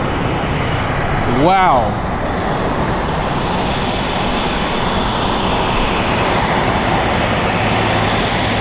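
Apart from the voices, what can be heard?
Southwest jet airliner taking off from LAX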